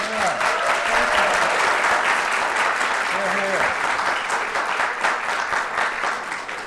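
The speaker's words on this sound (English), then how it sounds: "Let's start off by giving the kids a big round of applause." Sustained applause from a crowd, steady and fairly loud throughout, with a few faint voices mixed in underneath.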